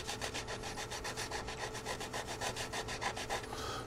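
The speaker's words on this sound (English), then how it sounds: "I'm just going to roughen up the surface of the tube" A sanding pad roughens the surface of an Estes Sasha model rocket body tube, making steady, rhythmic back-and-forth scraping strokes close up with no voices.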